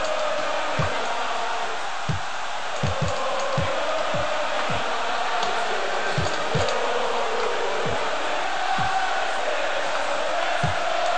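Stadium crowd in the soccer video game Sensible World of Soccer, a loud continuous roar of cheering with low thuds of the ball being kicked scattered through it.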